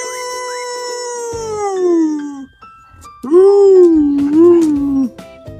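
A dog howls in two long, close, wavering tones separated by a short pause, with a few small noises around it.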